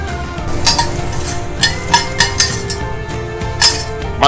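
Sliced veal, or similar seared meat, goes back into a metal pan with several sharp, close clinks and taps spaced irregularly, under a steady kitchen hum with no talking.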